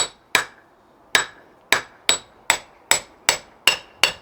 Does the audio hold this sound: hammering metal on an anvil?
yes